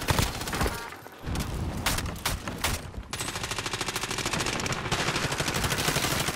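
Video game gunfire in a firefight, bursts of rapid automatic fire crackling densely and close, with a short lull before a long sustained rattling volley, no talk.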